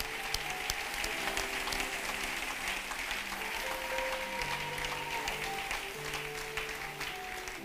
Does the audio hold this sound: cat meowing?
no